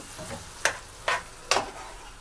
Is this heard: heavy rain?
no